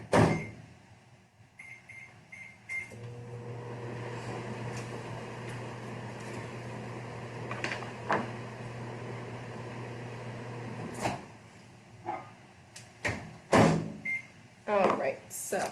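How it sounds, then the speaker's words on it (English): A microwave oven runs for about eight seconds softening chocolate, a steady low hum with a few clicks and clunks of the door at start and end, close by in a kitchen. "I am going to throw it in the microwave just for like 10 seconds"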